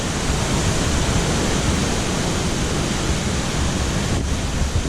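A waterfall roars, heard from behind the falling water along a hiking trail: a loud, steady, dense rushing wash that never lets up, close by, with no voices.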